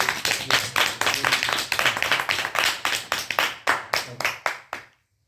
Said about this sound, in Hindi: करो ताली